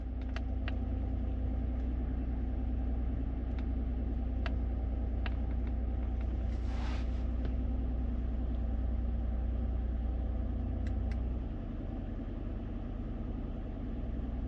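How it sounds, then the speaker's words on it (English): A Nissan Frontier engine, just restarted after the battery cable was reconnected during crank sensor diagnostics, idles with a steady low rumble, a few faint clicks over it, and the drone drops slightly near the end. "I got the motor started up"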